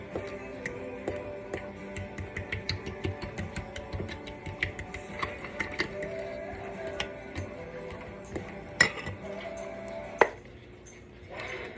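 Homemade dog food being stirred by hand with coconut oil and a little cinnamon, giving a steady run of soft clinks and taps of a utensil against a bowl, with two sharper knocks near the end and no talking.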